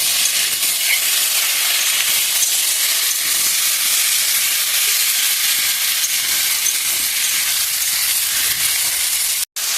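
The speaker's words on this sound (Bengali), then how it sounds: "এটা ভালো করে ভেজে নেব।" Fish seasoned with salt and turmeric fries in hot oil, giving a loud, continuous close-up sizzle and hiss that holds steady throughout with no talk.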